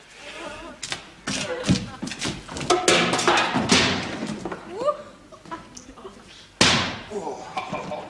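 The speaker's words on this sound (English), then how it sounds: "I will hew down the door with this admirable battle axe" Repeated heavy thuds and slams of a battle axe hewing down a wooden door, several loud strikes spread irregularly over the span, with a sharp final crash, voices speaking between the blows.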